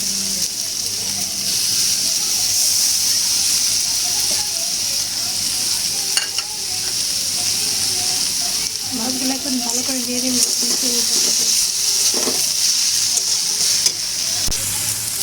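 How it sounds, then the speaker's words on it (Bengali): Small kachki fish go into frying vegetables (data, okra, potato) for a chachchari and are stirred, giving a steady close sizzle with spatula scrapes while someone talks over it. "সবজিটা ভাজা হয়ে গেছে, এই পর্যায়ে আমি কাসকি মাছগুলো দিয়ে দিব।"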